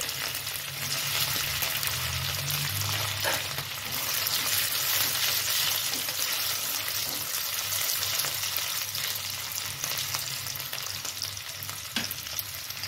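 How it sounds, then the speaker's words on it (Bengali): Potatoes fry in hot oil for a Bengali vegetarian dish, a loud, dense sizzle that runs throughout, with occasional stirring scrapes and a low hum underneath. "আমি এই রান্নাটাতে আলু দেব, তাই আলু প্রথমে আমি ফ্রাই করে নেব।"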